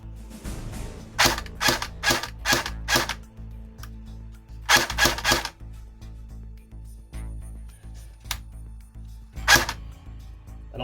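A Cybergun FAMAS airsoft rifle fires sharp, close, snappy shots. They come in quick clusters of three or four, with a few isolated single shots between them.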